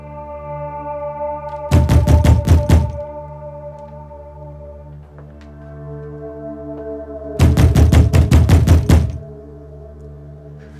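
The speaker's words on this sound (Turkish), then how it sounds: "Yıllardır şu kapı çalıyor." Two bursts of rapid knocking on a door in a Turkish historical drama scene, each several sharp raps in quick succession, separated by a pause over a low sustained musical drone.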